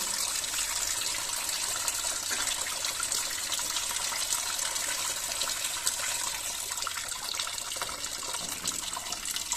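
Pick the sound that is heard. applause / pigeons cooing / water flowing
water flowing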